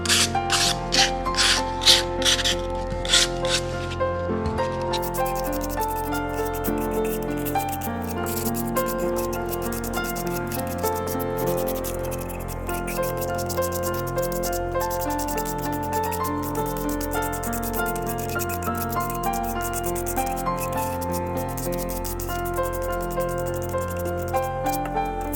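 Sandpaper rubbing over white-painted faux stone on a repaired terracotta pottery piece, a steady close raspy scrubbing in quick repeated strokes, with a few sharper strokes at the start, faint and continuous without talk.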